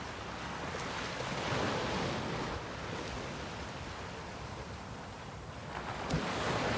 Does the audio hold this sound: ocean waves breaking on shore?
yes